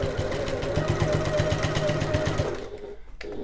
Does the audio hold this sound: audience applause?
no